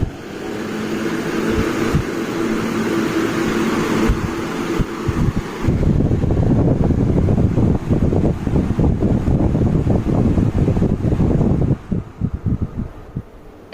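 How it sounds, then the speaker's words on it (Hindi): A table fan running, a steady whooshing airflow that turns into a louder, buffeting rush about halfway through, close to the microphone, with no speech. "अभी मैं यहाँ पर टेबल फ़ैन लगा रहा हूँ"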